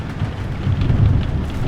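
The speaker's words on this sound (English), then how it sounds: "it's a big thunder." Thunder rolls during a thunderstorm, a loud low rumble swelling midway under steady rain-like hiss, with no talking over it.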